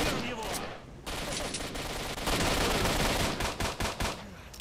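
Rapid gunfire from a pistol in the video game S.T.A.L.K.E.R.: Shadow of Chornobyl: dense, loud overlapping shots fill the whole stretch, with a few sharper separate cracks toward the end.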